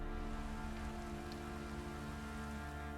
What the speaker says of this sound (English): Yeah, it's just rain.